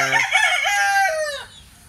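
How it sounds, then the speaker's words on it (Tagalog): A rooster crows near a backyard flock that includes an old white-legged hen over six years old with her chicks. The single long crow is loud and close, rising then trailing off, with faint clucking after. "Yan, may sisiw ulit. Matandang inahin na po yan, more than 6 years old na inahin."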